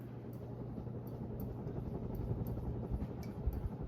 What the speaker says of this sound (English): You'll probably hear a little bit of a running moan to it as it runs on high here.